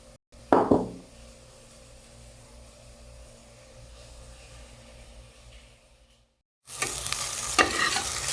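Vegetables for cauliflower pulao sauté in a pan, opening with a sharp clatter of a utensil against metal, then a low steady sizzle; after a brief silence, louder frying and stirring noise resumes nearby, with no one talking.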